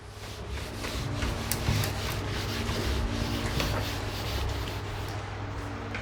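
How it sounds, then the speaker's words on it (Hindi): Classroom board being rubbed clean with a duster during a physics lesson, a steady scrubbing swish of back-and-forth strokes that continues unbroken for several seconds, close and fairly loud, with no talking. "मैं इसको थोड़ा सा रब कर देता हूँ"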